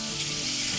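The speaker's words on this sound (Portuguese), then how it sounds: "Hoje eu vou fazer um franguinho no fogão a lenha, um franguinho frito." Chicken frying in a pan on a wood-burning stove, a steady close sizzle and crackle of hot oil with no talk.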